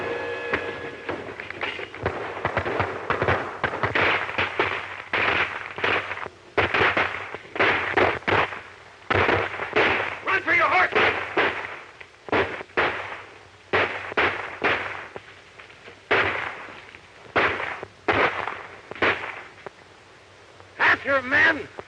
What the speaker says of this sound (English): we'll have to shoot our way out.